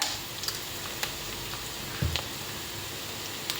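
Onions fry softly in a pan for carrot rice, a faint, steady sizzle with a few light clicks and taps of a spoon against the pan.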